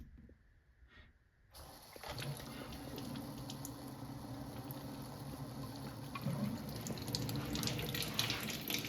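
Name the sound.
water flowing from an Enagic Kangen Leveluk K8 machine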